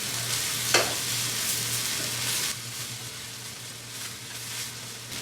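Shrimp dredged in flour frying in hot oil for paleo bang bang shrimp, a steady soft sizzle running throughout with a brief sharp crackle near the start, heard alone without talk.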